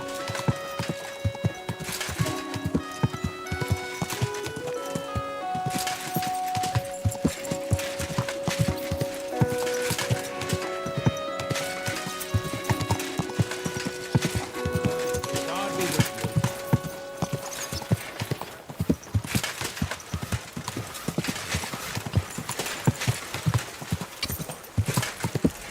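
Horse hooves clop in a steady rhythm beneath bright, busy game music that plays throughout, in the video game Kingdom Come: Deliverance II.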